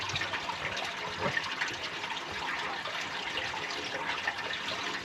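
Water runs steadily from a tap in a camper van, a continuous broadband gush and splash at moderate level with no talk over it.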